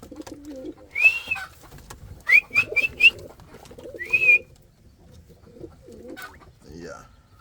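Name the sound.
Indian fantail pigeons cooing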